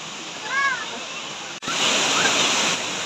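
Hinguiwin Falls in Padre Burgos, Quezon, swollen after heavy rain, roars as a steady dense wash of falling water, close and loud, with a brief faint whistle-like tone over it.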